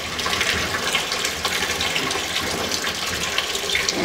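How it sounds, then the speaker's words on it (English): Running water sprays and rinses a screen printing scoop coater during washout, a steady broadband splashing rush that continues without pause throughout, fairly close and loud. "I'll show you how to wash out the rest of the scoop coater here in a second"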